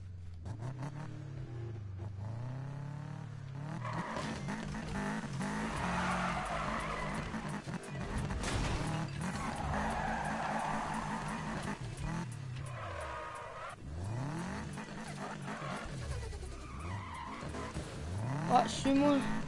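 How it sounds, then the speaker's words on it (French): Car drifting in Need for Speed, with sustained tire skidding and squealing over a revving engine, continuous and up front while a player talks throughout. "Ou on fait de la drift. On fait de la drift."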